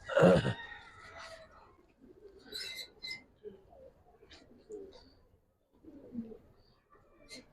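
Giribaj pigeons coo softly in a series of low, rounded calls, with one louder burst near the start and a few scattered higher chirps, close by in a quiet space.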